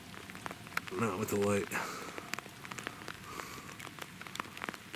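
Rain mixed with hail patters steadily on surfaces outdoors in cold weather, with someone speaking briefly over the constant hiss.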